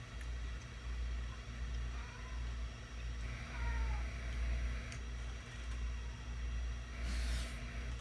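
A house cat meows a few times during an otherwise quiet indoor stretch, its faint cries rising over a steady low hum, with a brief brighter burst near the end.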